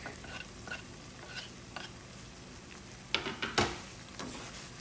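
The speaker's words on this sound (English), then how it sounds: "Mixing it all nicely." Kitchari with black pepper and fresh turmeric is stirred in a pan, soft scraping and shuffling over a steady low sizzle, with a short cluster of louder spoon knocks near the end.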